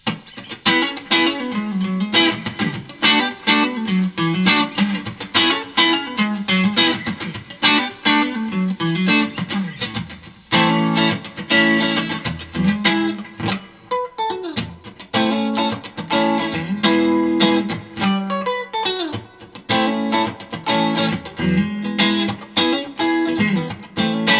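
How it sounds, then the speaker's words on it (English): Clean electric guitar on a Sterling by Music Man Cutlass neck pickup playing a busy run of notes with a warm, rounded tone, steady and fairly loud throughout. "neck pickup sounds like a great old Strat neck pickup"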